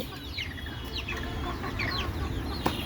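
Several desi chickens on a rooftop cluck in short, scattered calls close by, over a steady rushing background noise, with one sharp knock near the end.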